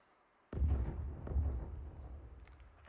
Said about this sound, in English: that's the airstrike